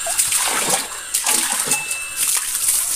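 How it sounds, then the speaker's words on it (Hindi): A motor pump runs at home while water gushes and splashes into a container, a steady broadband rush with sloshing throughout, close and fairly loud. "मोटर चालू हो गया। अभी इसमें पानी भरेंगे"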